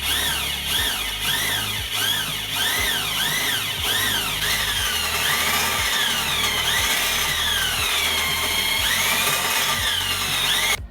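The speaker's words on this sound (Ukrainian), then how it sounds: "14 чи 16 свердло." A power drill with a 14 or 16 mm bit whines repeatedly in rising and falling bursts as the bit bites in, loud and close, with brief pauses between pulses, during repair of a K-650 motorcycle.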